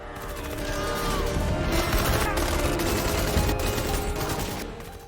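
Sustained gunfire in an action film shootout, a dense, loud fusillade of overlapping shots and crashes that swells in, holds steady for several seconds, then fades out.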